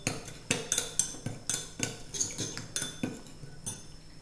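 Sugar and fish sauce are tossed through a beef shank and onion salad with a spoon in a dish, a quiet series of rhythmic clinks and scrapes, about two each second, close and without speech.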